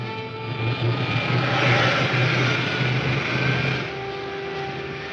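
A rocket ship's pilot jet fires in a steady, loud roar with a whooshing hiss that swells midway and then eases to a lower sustained rumble, with no voices.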